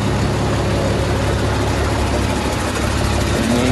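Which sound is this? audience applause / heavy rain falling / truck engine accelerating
truck engine accelerating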